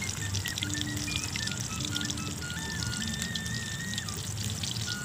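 Papaya pieces deep-frying in hot oil give off a steady, dense sizzle and crackle as their water boils out, loud and continuous throughout.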